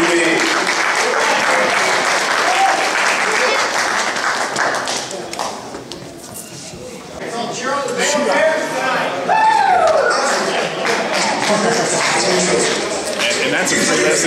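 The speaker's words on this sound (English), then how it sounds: "I'd like to give a big thank you and a round of applause to Lee" Audience applause at a venison chili cooking lesson, a steady broadband patter of clapping hands that dips briefly midway, with voices and whoops mixed in.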